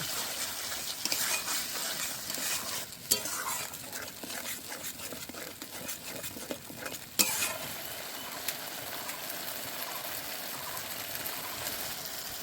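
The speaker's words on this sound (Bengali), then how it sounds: "ফেটানো টক দই দিয়ে দেব। এবার ভালো করে কষে নেব।" Spices being stir-fried with whipped sour yogurt in a pan for a vegetarian soybean curry, a steady broad sizzle with scraping stirs and a couple of sharp clinks of the spoon against the pan.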